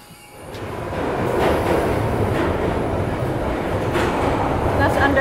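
A London Underground train runs steadily, a dense continuous rumble with rattling wheels building from quiet over the first second and then holding loud and close.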